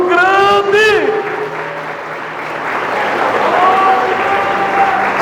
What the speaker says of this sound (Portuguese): Se ele crê, ele vai dar uma salva de palmas tão grande, tão grande.